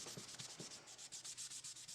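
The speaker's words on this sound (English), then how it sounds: "I'm just finishing up the hand sanding, so I've gone all the way to the 1000 grit now." Steady rhythmic scraping of 1000-grit sandpaper on a hard knife handle, about a dozen back-and-forth strokes in quick succession, close up and fairly quiet.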